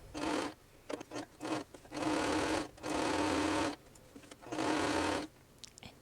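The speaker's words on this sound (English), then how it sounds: "I usually make sure to sew with the pant side down so that goes on really smoothly." A sewing machine stitches around the waistband of a pair of crop pants, running in several loud sustained bursts separated by short stops and clicks, close up with no talking.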